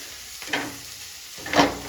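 Soft sizzling of onions frying in a pan, with two brief scraping stirs of a spoon, nearby and fairly quiet.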